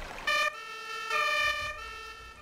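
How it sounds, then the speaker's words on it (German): An emergency vehicle siren in the video game Emergency 4, a loud alternating two-tone wail rising and falling over a couple of seconds, heard alone without talk. "Tatütata, tatütata."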